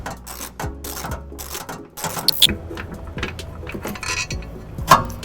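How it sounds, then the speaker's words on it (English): Ratchet clicking as it backs out tow hook bolts up on the side of the frame of a 2011 Nissan Rogue, with rapid metallic pawl clicks in bursts, mixed with clinks of tools, close and fairly loud. "we're gonna go ahead and take off the last 2 bolts holding this tow hook in that are up on the side of the frame here"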